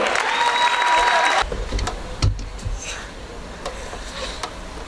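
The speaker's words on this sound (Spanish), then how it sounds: "Fuerte aplauso." Applause swells briefly from an audience at a school talent gala, then fades out as a loud thump and quieter ambient noise follow.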